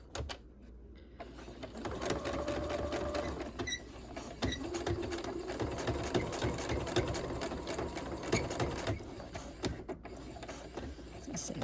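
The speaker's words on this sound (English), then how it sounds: "My sewing machine is not the best, and it gets a little messed up during those things" A sewing machine stitches steadily and closely, a fast mechanical whirring with rhythmic clatter that runs almost without a break.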